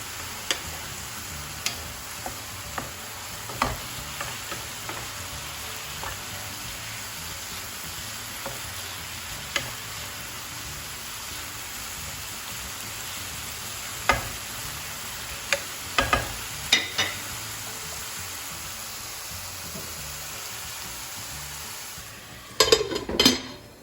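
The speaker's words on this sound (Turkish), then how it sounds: "Şimdi karıştıracağım ve güzelce kapağını kapatacağım." Mushrooms and peppers frying in a pan, a steady low sizzle running throughout with scattered light ticks and clinks of a utensil stirring, some sharper knocks near the end; no talking.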